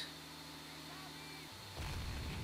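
A tank destroyer's gun fires in the Men of War game with a single heavy boom near the end, following a steady low engine drone.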